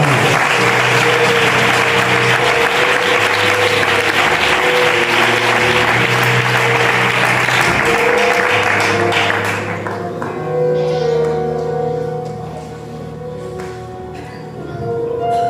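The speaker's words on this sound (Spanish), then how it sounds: "Un aplauso fuerte para mí." A church congregation breaks into loud, sustained applause that fills the room for about ten seconds, then thins and fades as organ-like tones carry on underneath.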